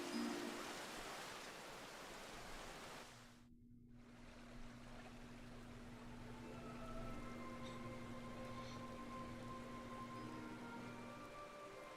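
Downpour in Final Fantasy XIV, a constant broadband wash of heavy rain that dips briefly and then continues with soft sustained game music tones beneath it.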